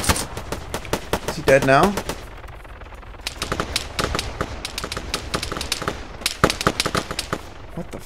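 Sharp gunshots and automatic bursts from the military shooter ARMA 3, irregular shots and rattling volleys spread across the scene, loud and close, with a short spoken question from a player partway through.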